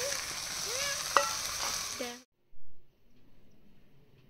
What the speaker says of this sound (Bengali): মশলা দেওয়ার পর ভালো করে কষানো চলছে।